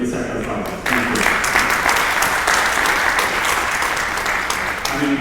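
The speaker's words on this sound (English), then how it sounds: "So can we just take a moment to applaud those who made the sacrifice?" An audience at a Korea peace forum bursts into loud, sustained applause that starts suddenly and holds steady, with dense clapping filling the room.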